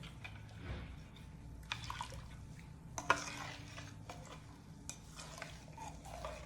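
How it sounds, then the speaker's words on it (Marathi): Spice mixture for a traditional raw mango (kairi) pickle is stirred in a pan, giving faint, soft scraping and shuffling with a few sharper clinks, a steady close-up stirring rhythm in a quiet kitchen. "हे मिश्रण सारखं ढवळत राहायचं."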